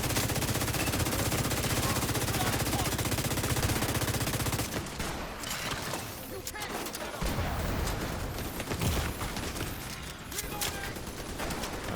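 Sustained enemy automatic gunfire in The Division, a dense continuous rattle for the first few seconds, then sporadic bursts and impacts with a voice talking over it.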